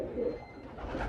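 Bankay pigeons coo softly in low, rolling murmurs at close range, the calls repeating over a quiet background.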